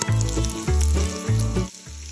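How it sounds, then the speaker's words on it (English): Bacon cooking in a deep pot that will later hold collard greens gives a loud, continuous sizzle, swelling and dipping in a few uneven waves with a brief quieter gap near the end. "Once your bacon is nearly cooked"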